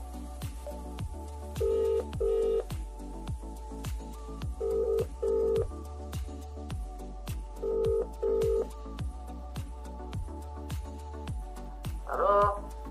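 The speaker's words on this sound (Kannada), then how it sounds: "ಕಂಪ್ಯೂಟರ್ ದೇವ್ರೆ ಕಲಿಕಾಂತಪ್ಪನಾಗ ಫೋನ್ ಕನೆಕ್ಟ್ ಮಾಡ್ಕೊಳ್ಳಿ." A telephone plays three pairs of short dialing tones at even intervals over a faint, steady background with regular ticks, then a brief rising sound near the end.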